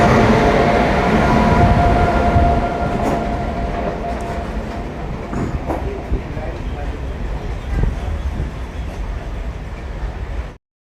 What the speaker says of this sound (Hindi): इटारसी का डीजल लोकोमोटिव है,